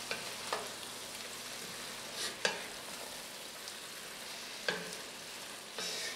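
Red wine beef stew stirred in a pot, a soft bubbling simmer broken by a few scraping spoon strokes against the pot, quiet and close with no talk.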